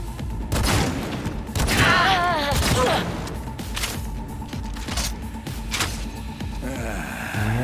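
Gunfire bursts in the video game Cyberpunk 2077, a fusillade of sharp shots and thuds over busy game sound, with voices talking throughout.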